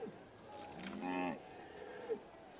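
Beef Shorthorn cattle at the Great Yorkshire Show give a single drawn-out moo at moderate distance, rising and falling over about a second, against the faint murmur of an agricultural show ring.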